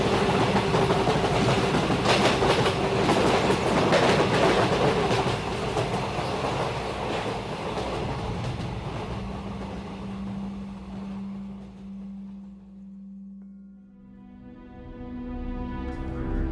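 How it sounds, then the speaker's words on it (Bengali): A train runs steadily with a loud rumbling clatter of wagons in an audio horror story, fading toward the end as a low tonal hum and music take over. "ট্রেন ছুটে চলল।"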